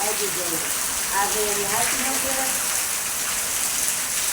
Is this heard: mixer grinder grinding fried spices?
no